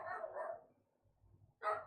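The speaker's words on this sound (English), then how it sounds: "Oh, dogs are barking." Dogs barking at a distance, a burst of barks at the start and another sharp bark near the end, with a quieter gap between them and no talk.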